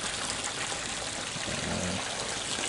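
Water pours and trickles steadily into a fish breeding tank during a water exchange, a continuous close splashing wash with no talk.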